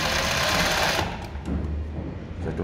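A Jack ZIGZAG 20U63 sewing machine runs a wide zigzag stitch, its needle clattering in a loud, rapid, steady mechanical rhythm close by that eases slightly midway before continuing.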